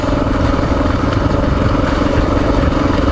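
An XR trail motorcycle engine running on a forest service road, a loud, close, steady putter with a rough, clattering texture that holds throughout without a break or any talk.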